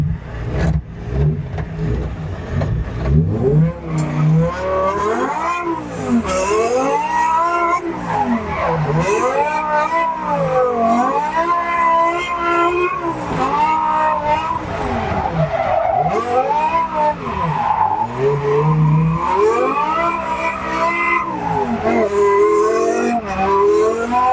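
An S85-powered BMW 1 Series drifts at a drift event, its tires squealing in long rising and falling waves over a revving engine, loud and continuous throughout.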